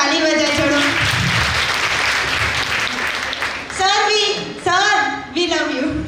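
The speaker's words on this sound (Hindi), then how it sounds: "प्लीज एक बार ताली बजाए छोड़ो" An audience at a youth camp event applauds for a guest speaker, loud continuous clapping for a few seconds, then a speaking voice over amplified sound takes over.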